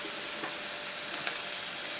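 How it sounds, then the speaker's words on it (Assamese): Ginger garlic paste fries with browned onions in a hot pan, a steady dense sizzle with faint stirring scrapes, close and continuous with no talk. "এতিয়া আদা নহৰুখিনি অকণমান ভাজি লওঁ।"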